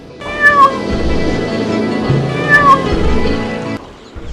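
A cat in an animated fairy tale meows twice, two clear, loud, drawn-out calls about two seconds apart, heard close up with no talk.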